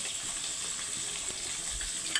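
Cooked rice fries in a pan with a constant close hiss and crackle that stays even in level, with no voices.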